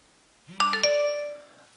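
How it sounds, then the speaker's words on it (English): An iOS 5 Twitter notification alert on an iPhone gives a short two-note electronic chime that rises, then rings out and fades over about a second, clear and close with no talk. "the Twitter notification pops up in the same way that the message notification pops up"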